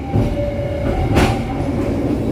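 Motis Selatan passenger train running at about 40 km per hour, a steady close rumble and rattle of wheels on rails with a brief brighter burst midway, no voices.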